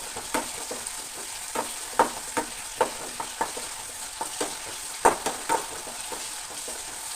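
Onions and tamarind fry in a pan for chammanthi, a steady sizzle broken by repeated spatula scrapes and taps at an uneven pace, close and clear with no voices.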